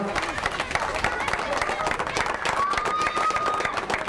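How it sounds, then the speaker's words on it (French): Outdoor crowd at a cycling race podium ceremony, the 11th Boucles du Haut-Var in 2014, claps steadily and cheers through the whole stretch, with voices and a brief high whistle mixed in. "On peut applaudir encore plus fort Romain Combo, le vainqueur de l'épreuve du jour"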